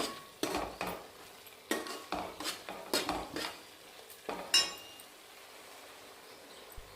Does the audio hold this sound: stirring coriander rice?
yes